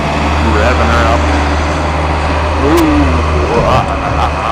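A skid steer engine revving as it drives toward a big dirt hill, a loud, steady mechanical drone with rising and falling pitch, heard close up under a voice.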